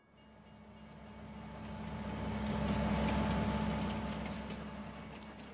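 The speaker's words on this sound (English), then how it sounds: "Here we have the train coming right now." Train passing in the Farming Simulator 25 video game on the Iowa Plains map, a steady rumbling roll that swells as it nears, peaks mid-way, then slowly fades.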